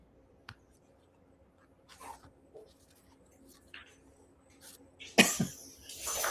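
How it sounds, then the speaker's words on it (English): A pet dog indoors making scattered snorts, snuffles and a cough-like huff, sporadic and close in a quiet room, with a louder sputtering burst near the end. "I'm just listening to how noisy my dog is being."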